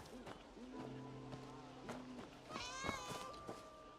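A cat in the Where Winds Meet video game meows a few times, with a short run of rising calls near the end over steady game ambience and background tones.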